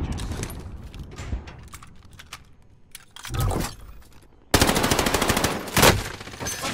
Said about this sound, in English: Wyatt, they're shooting me!